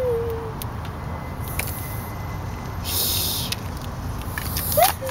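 An angry goose hisses at close range, with a couple of breathy, broadband hissing bursts over quiet background noise and a short squeak near the end.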